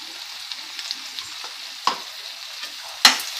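Gongura pickle is stirred in a pan with turmeric and asafoetida: quiet, intermittent scrapes and light clicks from the spoon, with one sharper knock near the end.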